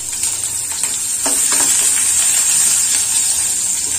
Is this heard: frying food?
yes